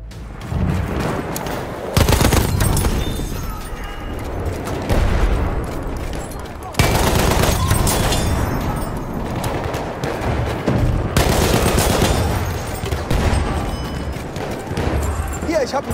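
Sustained MG15 Suppressive machine gun fire during a Battlefield match, with rapid bursts that swell loudly around two, seven and eleven seconds over continuous battlefield noise and scattered voices.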